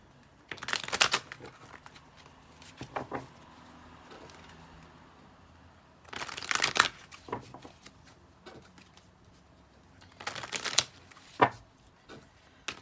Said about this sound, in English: Alright, let me shuffle up a bit.